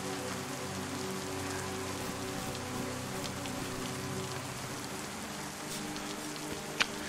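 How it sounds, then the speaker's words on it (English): Steady rain patters on a surface, a dense continuous hiss of drops with one sharp tap near the end. "Is that rain getting in here?"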